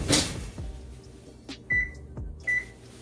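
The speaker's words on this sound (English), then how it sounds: "Close the oven" A kitchen oven door is shut after a pound cake is taken out, giving a loud thump at the start, then a few lighter clunks and two short electronic beeps. No one speaks.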